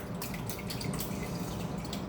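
Beaten eggs poured in a steady stream into a bowl for a Basque espresso cheesecake, giving a continuous close liquid splash and glug that runs alone for about two seconds.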